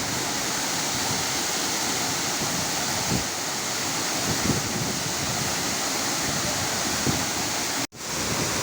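Theopani Falls, a waterfall near Guwahati, Assam, gives a constant broad rushing roar of falling water, steady and close throughout, with one brief cut to silence near the end.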